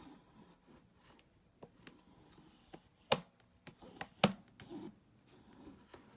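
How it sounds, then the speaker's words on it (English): A bone folder burnishes a folded paper strip for a handmade Christmas mini album. Soft rubbing strokes and a few sharper taps come through quietly, close and alone. "we're just going to give it a good burnish"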